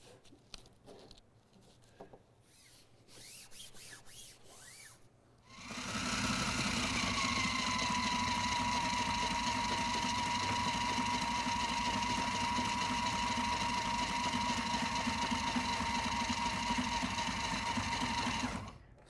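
A sewing machine stitches a pocket onto a homemade gaff mainsail, running loud and steady for about thirteen seconds after quieter handling noises at the start.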